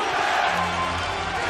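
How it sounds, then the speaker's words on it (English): Crowd noise in a Raptors basketball arena during a close fourth quarter, a loud, rolling roar with rhythmic chanting, steady throughout. "listen to the crowd asking for defense"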